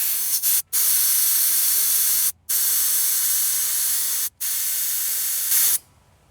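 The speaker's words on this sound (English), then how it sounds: "you actually remove the valve stem like that, then you can bleed it down to your desired pressure" Air hisses out of a tire valve stem with the core removed, a loud steady spray broken by three short pauses before it cuts off near the end.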